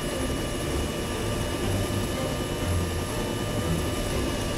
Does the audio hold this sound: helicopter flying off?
yes